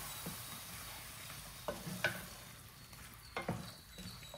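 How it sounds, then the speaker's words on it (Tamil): Chicken pieces with tomato frying in oil crackle quietly in a pan, with a low steady sizzle broken by a few sharp spatula knocks and scrapes. "இப்போ இந்த சிக்கன் கொஞ்சம் இந்த எண்ணெயில் வதங்கட்டும்."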